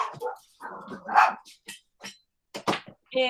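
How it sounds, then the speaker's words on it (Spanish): Several dogs bark and yip in short irregular bursts, fairly close and loud, with brief silences between calls and some higher whimpering yelps. "volvieron a ladrar los perros"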